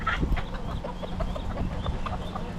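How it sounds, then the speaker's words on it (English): Roosters and hens in Key West give short, faint clucks in a scattered, steady patter against soft outdoor background noise. "Wow, look at all the roosters."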